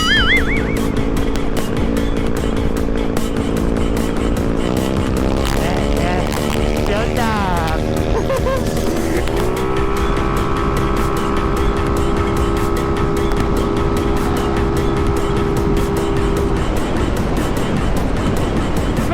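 A Yamaha Mio motorcycle with an open exhaust roars loudly and close up, its engine note rising and falling as it revs and changes speed on a road trip, with a rider talking over it.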